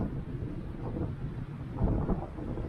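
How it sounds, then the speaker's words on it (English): Strong wind gusts buffet the microphone at a campsite beside a big lake, a steady low roar that swells louder near the end, with no one talking. "waiting for this wind to stop"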